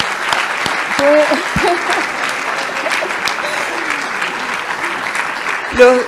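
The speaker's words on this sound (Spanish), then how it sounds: "Un aplauso porque realmente fueron creativos." An audience at a talk on anti-corruption systems claps steadily for several seconds, a dense patter of applause with a brief voice cutting in near the end.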